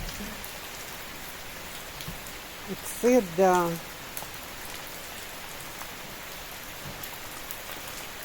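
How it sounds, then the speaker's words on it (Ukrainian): Steady rain hisses throughout at moderate distance on a building site, with a brief spoken phrase from a nearby voice partway through. "Який дощик. Гарний."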